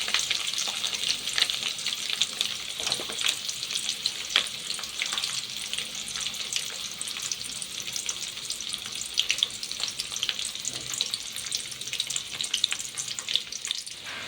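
Onion pieces frying in oil with mustard seeds and chana dal for an aloo fry, a steady close sizzle with crackle throughout and a faint watery undertone.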